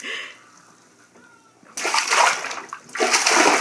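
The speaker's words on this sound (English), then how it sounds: "Are you splashing me?" Water splashing in a bathtub at bath time, two loud bursts of churning splashes after a quieter stretch of faint voices and movement.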